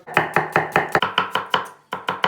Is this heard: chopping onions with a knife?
yes